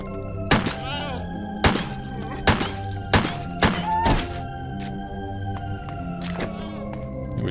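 An enemy being stepped on in the horror video game Crow Country, heard as a series of heavy, hollow thuds that land about half a second to a second apart, clear and fairly loud against a low game backdrop.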